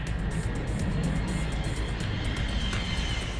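An Airbus A380 super-jumbo passenger jet roars steadily, a loud, continuous broadband engine rush that holds at an even level with no speech.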